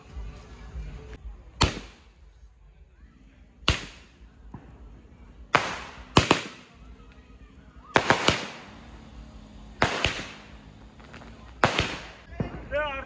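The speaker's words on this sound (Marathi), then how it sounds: "चला फटाके लावूया." Firecrackers are set off during a village puja, about eight sharp, loud bangs spaced a second or two apart. Some come in quick pairs. Quiet murmuring voices are heard between them.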